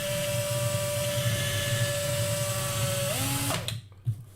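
A power drill whines steadily as it bores into a metal toy car model for a Gaslands build, then winds down and cuts off near the end, followed by a faint clunk.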